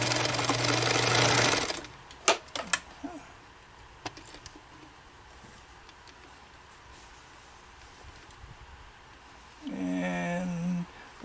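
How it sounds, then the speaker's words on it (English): Bernina 830 sewing machine stitching a fabric tool roll, with a fast whirring burst at the start, a quiet stretch of small clicks and handling noises, then a second short run of stitching near the end. "I'm going to sew off the edge and then come back."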